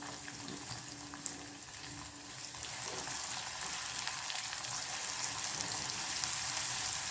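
Finely chopped onion sizzling in a hot pan while cooking soya chunks, a soft continuous crackle and hiss that builds slightly after a few seconds, faint and steady with no talk.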